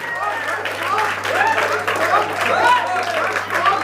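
An audience at a ghazal poetry recital claps in honour of poet Ujjwal Rai, a steady round of applause mixed with cheering and exclaiming voices.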